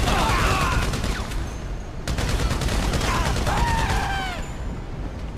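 Sustained LMG machine gun fire in Grand Theft Auto V, loud and continuous with dense bursts running nearly the whole time, plus a brief lull before the firing resumes.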